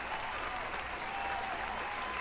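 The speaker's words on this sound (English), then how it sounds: "let's give them a big round of applause" A podcast audience gives a round of applause for guests from the Thai furry fandom, heard as faint, even clapping that holds steady throughout the short stretch.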